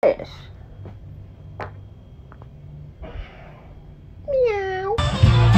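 A person imitates a cat's meow with a rising and falling vocal call, preceded by soft breathing and faint sounds, ending with louder noise.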